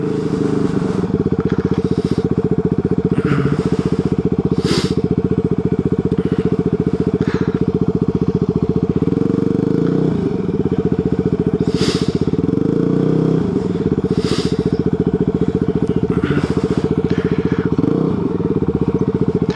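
Motorcycle engines idle and rumble at a Cycle Gear bike night, a loud continuous low drone over the whole stretch with occasional clatter, scraping and brief bursts of crowd noise on top.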